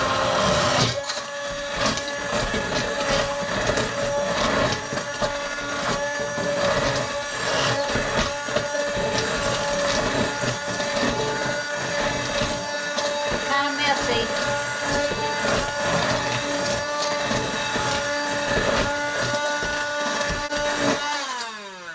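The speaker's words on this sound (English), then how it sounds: "And I'm going to use my immersion blender and blend this up." An immersion blender whirs steadily through grits mixed with water in a home kitchen, a loud continuous motorized drone with shifting pitch that runs nearly the whole stretch before cutting off at the end.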